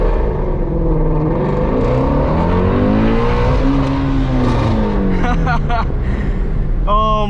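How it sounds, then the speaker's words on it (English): A Ford Mustang GT350 launches hard with launch control, its loud engine note climbing steadily in pitch as it accelerates from a standstill, with steady road and wind roar underneath throughout. "If you slowly let off and kind of slip it, there's a good perfect point to it, then the car will launch better"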